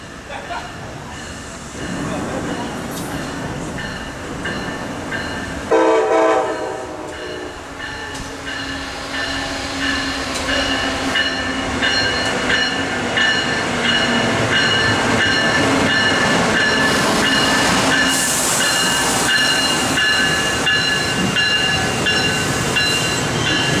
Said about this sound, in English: At least the engineer gave a toot.